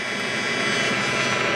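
A stove's blower wheel runs with debris caught in it, giving a loud, steady broadband whir like a jet engine, with a faint rattle under it and no talk.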